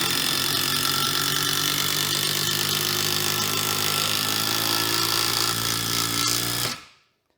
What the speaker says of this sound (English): Moving on to an impact wrench, this is the DCF 890 and 3/8 inch drive.